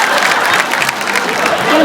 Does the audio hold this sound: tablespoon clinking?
no